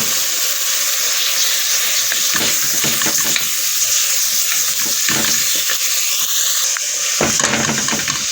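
Chicken liver and gizzards with black pepper, cumin, paprika, vinegar and salt sizzle steadily in a pan on the stove, with loud continuous frying hiss and intermittent scraping clatter of stirring.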